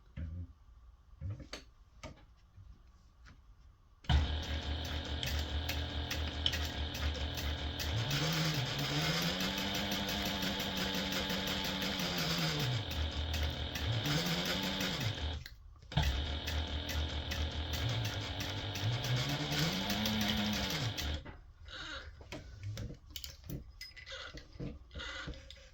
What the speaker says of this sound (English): we're just going to sew along that fold using an 1/8 inch seam allowance